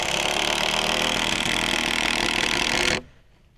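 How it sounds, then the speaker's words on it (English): A semi-impact drill drives a screw into wood while building a cheap raised garden bed, giving a steady, loud, close whirring buzz for about three seconds before cutting off abruptly. "It just makes that noise because it kind of rotates back and forth and drives the screw right in."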